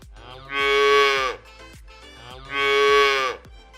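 A cow lows twice, each moo a long, loud, close bellow of about a second, separated by a short pause, with no voices over it.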